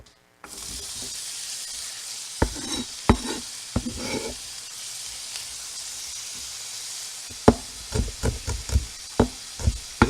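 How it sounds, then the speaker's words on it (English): Food fries loudly in a hot pan for a surf-and-turf meal, a steady sizzle broken by knocks and scrapes as it is stirred, the clatter growing busier toward the end. "You ready for the sizzle?"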